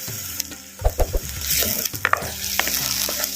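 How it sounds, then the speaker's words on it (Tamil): Green chili paste sautéing in hot oil while being stirred for gobi chilli: a steady, close sizzle with scraping stir strokes and bursts of crackle, no voices. "சேர்த்த பச்சை மிளகா விழுதுங்களையும் நல்லா எண்ணெயில் நல்லா சுருள சுருள அப்படியே எண்ணெயில் வதக்கிக்கிறோம்"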